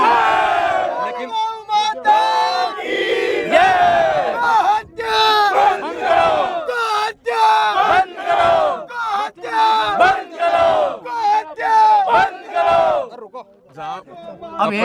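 A large crowd protesting near the Nawalgarh agricultural market over encroachment on pasture land shouts slogans in loud, rhythmic bursts, repeated chant after chant with short pauses between.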